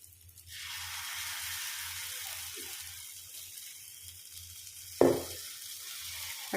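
Banana paniyaram batter fries in a paniyaram pan with a steady close sizzle that runs throughout, broken near the end by a brief clatter.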